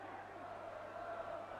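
West Ham football crowd at a match against Liverpool, a steady distant roar of massed voices with faint chanting, continuous and even throughout.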